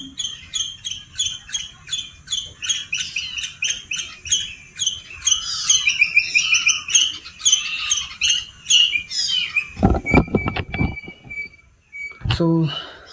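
Birds chirp and twitter steadily in a mixed chorus outdoors in Alibag, with dense repeated calls close by, then a couple of sharp loud knocks near the end.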